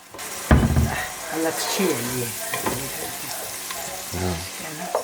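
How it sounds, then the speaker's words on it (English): Onions sizzle and crackle steadily as they fry in oil, with stirring scrapes, while a person talks over it. "This is your obligatory frying onions ASMR."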